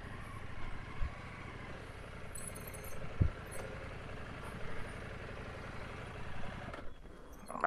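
A motorcycle engine idles quietly on a ride from Parasito to Coronado, a faint, steady low putter with a few small bumps before the sound thins out near the end as it stalls.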